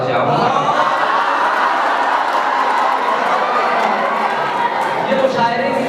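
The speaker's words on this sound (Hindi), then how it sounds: "ये तालियों की बौछार, ये वाह ये बता रही है" Dense crowd noise from a mushaira poetry gathering in Malegaon, a steady roar of clapping mixed with chatter and scattered shouts of appreciation, loud and continuous throughout.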